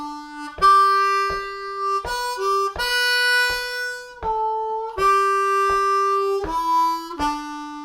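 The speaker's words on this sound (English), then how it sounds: "let's get stuck in with the first lick that sounds like this and starts on beat 3" Opening lick of Amazing Grace on harmonica in 2nd position, starting on beat 3: a few long, bright sustained notes with slides between them, close and solo, with steady low pulses underneath.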